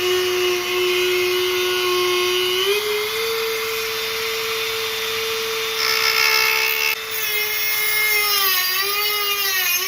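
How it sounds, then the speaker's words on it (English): High, sustained whine of a Dremel rotary tool cutting the rim off a brass 30-30 shell casing, loud and close, its pitch wavering and dipping as the cut bites and eases, with no talk. "rim of this 30-30 shell casing off with this Dremel."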